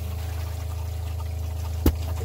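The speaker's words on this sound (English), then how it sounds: "I can hear the tank filling." Water fills the hot water tank of a camper van through switched valves, a steady low hum and trickle running throughout with one brief louder knock near the end.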